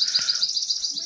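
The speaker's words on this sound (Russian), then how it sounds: "Пение птиц." Birdsong in a puma simulator video game: a bright, rapid high-pitched twittering trill running continuously for about a second, with a faint low thump near the start.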